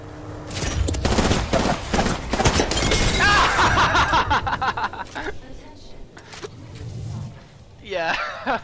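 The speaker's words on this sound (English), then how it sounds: "No, I'm gonna Kraber him." Kraber sniper rifle shots in a video game, mixed into a busy firefight with bursts of other gunfire and impacts, loud and close, with a person talking over the action.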